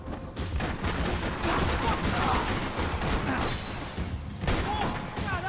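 Video game gunfire in Max Payne 3, a dense, continuous barrage of shots and impacts filling the whole stretch at high volume, with crashes layered over the shooting.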